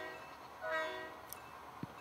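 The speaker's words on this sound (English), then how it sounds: "The short train with a blue GN caboose heading across the trestle towards the new West Seattle town." A faint horn sounds briefly from an HO scale model train with a blue GN caboose crossing a trestle on a home layout, followed by a couple of small clicks.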